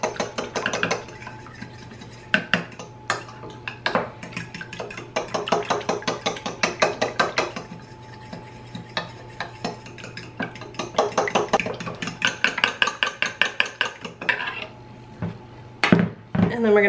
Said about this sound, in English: And then we're going to just stir this all together.